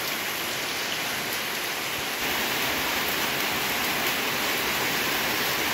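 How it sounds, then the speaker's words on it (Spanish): Heavy rain pours steadily on a cloudy day, a dense, loud hiss of drops hitting surfaces that carries on unbroken throughout with no voices. "así es como siguen las lluvias"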